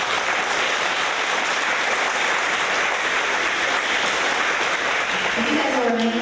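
A school audience applauds 4th-grade students at an awards event, a loud, continuous, rain-like patter of many hands, with a voice starting to speak over it at the very end.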